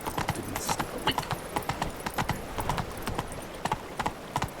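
Roach, Geralt's horse in The Witcher 3: Blood and Wine, gallops with quick, irregular hoofbeats at close range, unaccompanied by talk.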